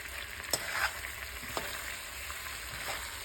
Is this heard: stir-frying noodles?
yes